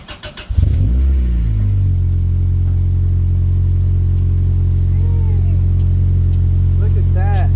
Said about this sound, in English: See if I can't give you guys a little cold start.